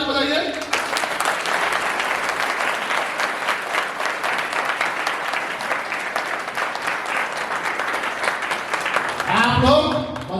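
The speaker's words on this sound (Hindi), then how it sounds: "खास के जोरदार ताली बजाइए" Loud, dense applause from a large crowd at an election rally, sustained for about nine seconds before fading, with cheering rising at the end.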